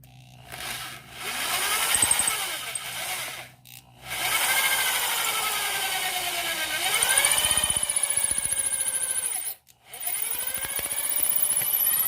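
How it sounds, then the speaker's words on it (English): A power drill whirs steadily, widening a hole with a bigger bit while building a bushcraft knife, its pitch rising and falling as it bites into bone, with two brief pauses where it stops and restarts. "I'll just widen it out with a bigger drill bit"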